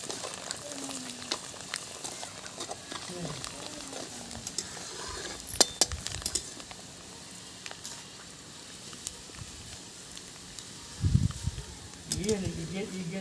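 Rice frying in mustard oil in a hot kadhai over a wood fire gives a steady, close sizzle with occasional metal clinks and a burst of louder stirring or scraping near the end.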